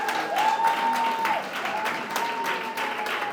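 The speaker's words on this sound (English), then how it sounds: "Give a rounding round of applause for our 12 poets." Audience at a poetry competition semi-final applauding the poets: dense, steady clapping from a crowd filling the room, with a faint voice briefly over it.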